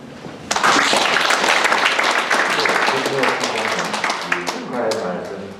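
An audience at the founding ceremony of an Incheon regional chapter bursts into dense, sustained clapping about half a second in, filling the hall before slowly thinning out.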